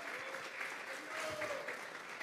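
Congregation applauding inside a church during a sermon, a steady wash of clapping held at moderate level throughout, with voices faintly mixed in.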